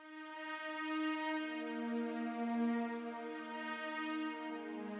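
Sustained synth-style string melody from a beat, rich stacked harmonics holding long, steady notes at an even moderate level with no voices.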